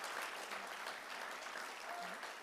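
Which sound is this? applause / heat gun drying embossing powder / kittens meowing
applause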